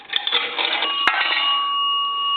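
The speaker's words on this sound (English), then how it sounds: "on the nickels, you're going to hear the bell ring once" A three-slot A&E chrome payphone sounds a single bell ring for a dropped nickel, a bright metallic strike that rings on and fades slowly, heard alone and close.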